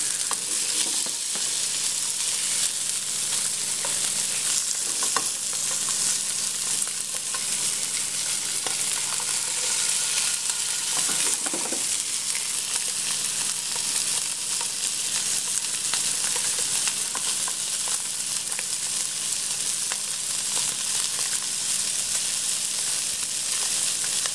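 Gemfish fillets fry in a hot pan, a steady close sizzle running throughout, with a brief scrape and clatter near the middle as a metal utensil flips the pieces.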